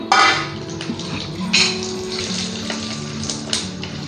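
Red chillies, fenugreek seeds and curry leaves sizzle in hot oil in a pan, a hissing crackle with sharp spitting bursts at the start and again midway.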